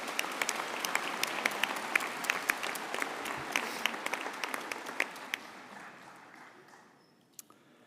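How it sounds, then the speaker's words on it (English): Convocation audience applauding in a Saskatoon hall, dense moderate clapping with scattered distinct claps, gradually tapering off into a few last faint claps near the end. "Yeah, give them all of them a round of applause."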